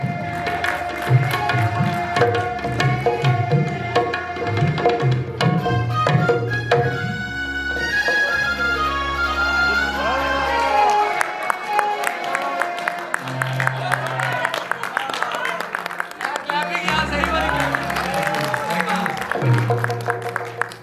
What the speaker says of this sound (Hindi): इस दुपट्टे की भी ताली बजाएंगे आप।